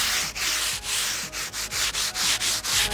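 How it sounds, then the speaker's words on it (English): Steady back-and-forth strokes of 150 grit sandpaper lightly sanding the top surface of a cured resin laminate during a swimming pool repair, a rhythmic close scratching with short pauses between passes and no talking. "I've got about 150 grit sandpaper here, and we're just lightly sanding just the top surface of the laminate."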